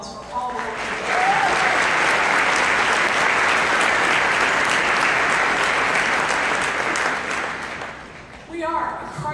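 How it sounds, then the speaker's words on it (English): A large audience gives a long, loud round of applause for Mrs. Potter at a Christ-centered school community event; the clapping swells quickly, holds steady, then fades near the end as a voice resumes speaking. "Mrs. Potter, we give you a huge round of applause for all the work you've done"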